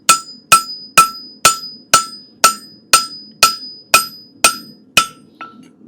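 Eleven sharp metallic hammer strikes ring out on a steel fullering tool at an even, steady pace during forging, each blow leaving a bright, short ringing tail.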